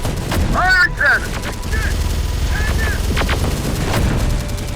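Gunfire and cannon fire in a militia battle video game crackle in sharp repeated bursts, with rapid shots and booms mixed under raised voices talking over the combat.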